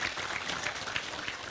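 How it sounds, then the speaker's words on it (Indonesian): A crowd at an Islamic religious study gathering claps together in a dense, even burst of applause that holds steady at moderate volume. "Tepuk tangan untuk mereka"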